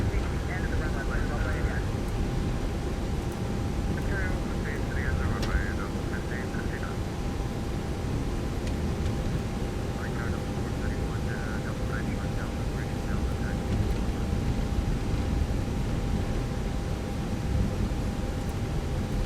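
An airliner taxis at Los Angeles International Airport, its engines a steady, loud broadband roar with a constant whine, while cockpit voices speak intermittently over it.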